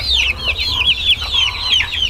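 Young chicks nearly a month old at an artisanal incubator hatchery keep up a steady stream of high, rapid peeping chirps, with soft clucking underneath and a low background rumble, close and continuous throughout.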